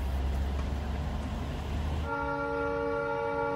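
Darjeeling toy train on a mountain line at Kurseong starting up after a stall, engine rumbling low, then a loud sustained horn toot ringing out near and clear for the last second and a half.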